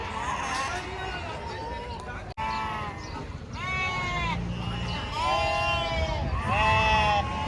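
Sheep bleat repeatedly at a busy goat market in Jiyaguda, Hyderabad, several animals calling over one another, close and loud above a steady crowd murmur.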